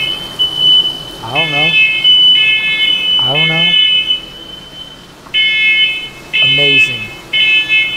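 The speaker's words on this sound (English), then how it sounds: "Set off the smoke alarm in the first episode." A smoke alarm goes off during a pepper steak cooking session, sounding in loud, high, evenly repeated beeping bursts while people talk and exclaim between them.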